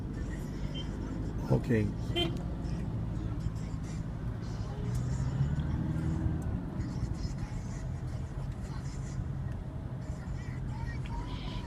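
Street traffic in Ghana heard from inside a moving vehicle, with a steady low engine and road rumble throughout, a few brief horn-like tones early on, and people talking over the drive.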